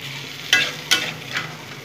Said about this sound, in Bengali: একটু মশলার সাথে আবার নেড়ে নেব।